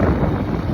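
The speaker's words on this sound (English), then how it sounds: "right now I'm motoring almost directly into the wind." Strong wind buffets the microphone as a small boat motors almost directly into it near Croker Island, a loud, steady rushing roar with no talk.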